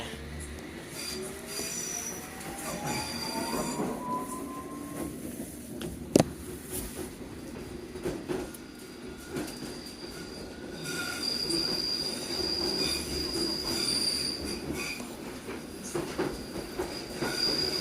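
A London Underground Hammersmith & City line train pulling away, its wheels giving long high-pitched squeals over a continuous rumble of running rails, with occasional clicks and a sharp knock partway through.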